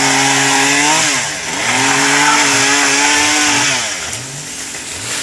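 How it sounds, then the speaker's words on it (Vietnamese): A chainsaw cuts into a coconut tree in the rain, its high buzzing whine rising and dipping as the blade bites and eases, loud and close throughout. "Anh Tùng bắt đầu cưa xuống, né tàu xuống."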